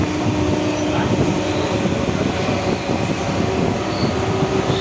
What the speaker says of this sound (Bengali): ট্রেন ছেড়ে বেরিয়ে যাচ্ছে